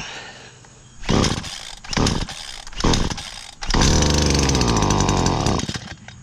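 A new Stihl HT-56c pole saw's small two-stroke engine is pull-started with a spring-assisted starter. Several short rasping pull bursts come first, then the engine catches and runs with a loud, buzzing rev that holds and rises before easing.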